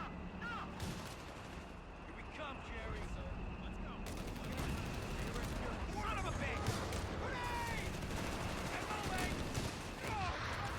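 Air burst artillery shelling a machine gun line in Company of Heroes 3, with continuous battle noise of bursting shells and gunfire at middle distance under steady talk.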